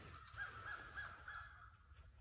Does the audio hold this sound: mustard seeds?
no